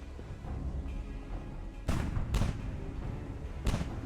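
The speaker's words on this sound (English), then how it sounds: "Oh dear. There are explosions." Explosions in the video game Final Fantasy XIV: three sharp booming blasts burst over a low rumbling background, the first two close together just before the midpoint and the third near the end, loud and without any talk.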